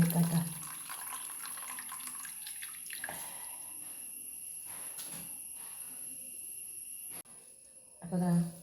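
Grated raw tapioca is squeezed by hand in a bowl of water in a Kerala kitchen, with soft splashing and wet sloshing over steady background hiss, louder at the start and end.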